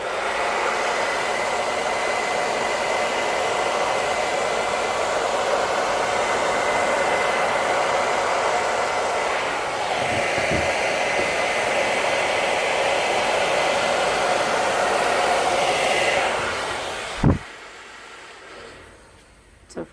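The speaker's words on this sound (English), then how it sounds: "we're going to blow this around with a hairdryer, which is pretty loud" Hair dryer blowing acrylic paint across a pour, a loud steady close roar lasting most of the clip before it switches off, followed by a couple of knocks and near silence.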